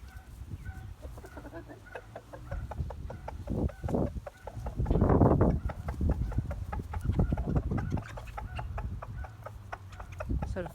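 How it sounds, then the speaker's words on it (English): Chicks and pullets cluck and chatter in a busy feeding frenzy as feed is thrown out, a dense flock of overlapping calls that grows louder and more excited midway through. "I've got the chicks are over there, and I've got the pullets somewhere as well"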